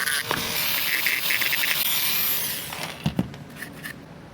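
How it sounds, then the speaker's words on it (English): A rotary tool with a sanding drum smooths a Traxxas RC car chassis, a high whirring grind with shifting pitch as it works along the plastic, followed by a few short scraping touches near the end. "my sanding drum and this other little bit that I used finished this up quite nicely here"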